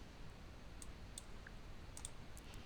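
Computer mouse clicks at a desk, a handful of sharp, quiet, isolated clicks spaced irregularly over a low steady background hiss.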